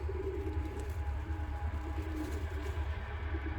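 Ornamental costume pigeons, a paired male and female, coo softly in low rolling calls over a constant background hum.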